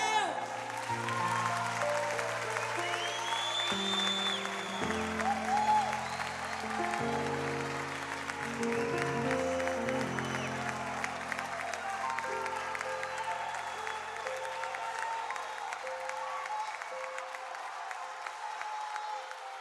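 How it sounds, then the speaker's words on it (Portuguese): A church congregation applauds at a live worship broadcast, a steady, dense wash of clapping that carries on throughout, with organ or keyboard chords sustained beneath it. "Aplauda a Deus."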